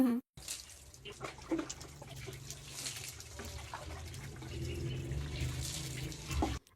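Water poured and splashing during an outdoor bath, a steady close wash of running, tumbling water that continues through the whole stretch with no talk.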